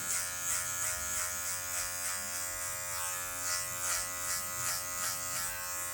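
An electric hair clipper buzzes steadily and close up while cutting a taper fade on very difficult hair, with rhythmic swells as the blade sweeps in C-shaped strokes to remove excess bulk, running alone without talk.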